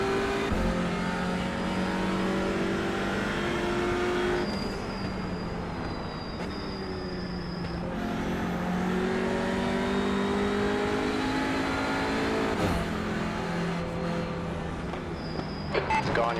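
Touring race cars in iRacing's TCR series at Road Atlanta accelerating off the line at the start, a pack of engines revving hard with rising and shifting tones, loud and sustained throughout, under intermittent radio talk.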